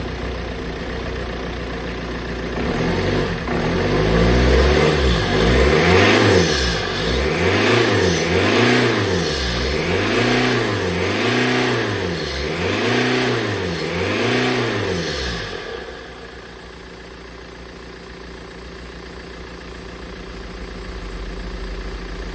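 A BMW M47 diesel engine fitted to a Ford Transit van runs and revs, rising from idle into a long series of rhythmic rev swells about once a second, then dropping back to a lower, steady idle; loud and close, no talking.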